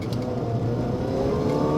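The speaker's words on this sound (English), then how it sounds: "you can actually hear the supercharger quite well" A 1.6-liter supercharged Mini Cooper S engine runs steadily while driving, a continuous low drone with a faint supercharger whine layered on top, close and fairly loud with no talking.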